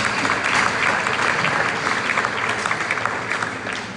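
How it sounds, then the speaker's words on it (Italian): A church congregation at a parish gathering claps in sustained, dense applause, a broad even wash of many hands that carries on unbroken and fades slightly toward the end. "Un applauso a questi fratelli numerosi."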